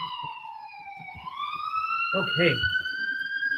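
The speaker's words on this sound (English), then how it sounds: "It's sirens going off again. Okay, it sounds like an ambulance." An ambulance siren wails outside with steady rising and falling tones, loud and sustained throughout, while a person speaks briefly over it.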